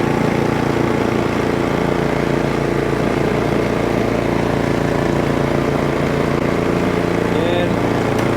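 A Cub Cadet 3X snowblower running in reverse gear: a loud, steady small-engine drone close by, holding an even pitch throughout with a faint higher whine near the end.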